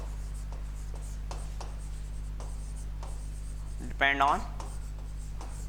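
Short scratchy strokes of writing on a board during a class 12 physics lesson on electric force, repeated taps and scrapes in an irregular rhythm, with a brief burst of a voice near the end.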